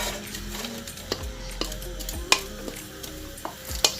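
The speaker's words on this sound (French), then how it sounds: "je vais faire revenir mes oignons." Onions sautéing in olive oil in a pan: a quiet, soft sizzle under slow stirring scrapes, with a few sharp utensil clinks standing out near the middle and end.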